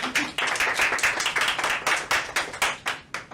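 A small group at a kids' junior broadcasters event claps in a short burst of close, distinct, rhythmic hand claps, about a dozen sharp strikes in roughly three seconds, with no talking.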